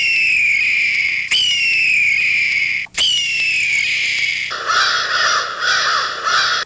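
A huge flock of about 30,000 crows in the town of Kentville caws loudly, mixed with sharp descending electronic wails that sweep down repeatedly, followed by a dense, harsh chorus of calls.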